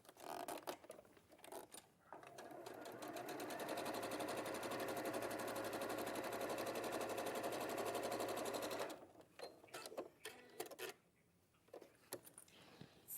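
Top stitching on a domestic sewing machine with a lengthened stitch, a steady rapid needle rattle running alone for several seconds, framed by shorter bursts, clicks and handling of fabric.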